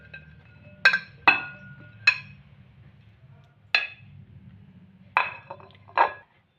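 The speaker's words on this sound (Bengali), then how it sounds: "একটা বাটির মধ্যে ফুলকপিগুলোকে ঢেলে নেব।" Cauliflower florets poured into a bowl land with about six sharp, ringing clinks spread unevenly over several seconds, close and fairly loud over a low background hum.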